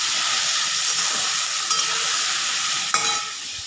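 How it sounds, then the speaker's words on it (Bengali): Soybean chunks frying in a pan give a steady bright sizzle, with a couple of short scraping stirs near the end. "একটু সোয়াবিনটা ভেজে নিচ্ছি।"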